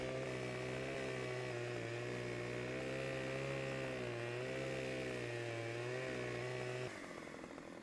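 A chainsaw in the farming video game Farming Simulator 17 cuts logs into lengths, its engine droning loud and steady with slight pitch dips as it bites, then dropping away near the end.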